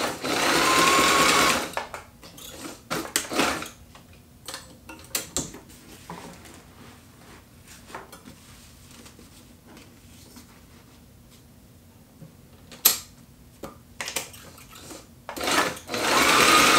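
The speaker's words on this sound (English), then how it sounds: "I'm just going to lift the foot, move up to the next piece of webbing, put the foot down, and start sewing again" Sewing machine stitching PALS/MOLLE webbing, with bursts of rapid mechanical whirring separated by pauses while the work is repositioned, close and fairly loud.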